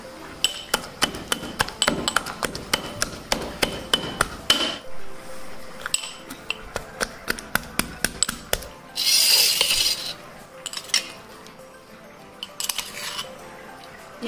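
Ginger, green chili and garlic crushed by hand, heard as a run of sharp, close knocks and clinks at an irregular pace that thin out partway through, followed by a brief scraping burst and a few scattered taps.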